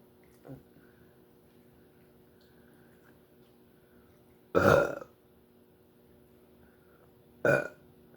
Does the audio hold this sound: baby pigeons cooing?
no